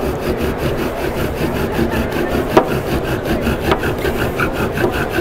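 A wooden spindle is drilled into a wooden board to make friction fire, giving a steady, rhythmic grinding rasp with fast back-and-forth strokes, close and continuous, with a couple of sharper creaks.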